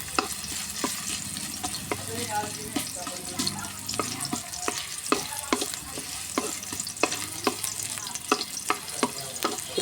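Leftover fried fish frying in a pan, with steady sizzling broken by sharp clacks of a utensil stirring and scraping. Water runs faintly in the background, and the cooking is close and continuous.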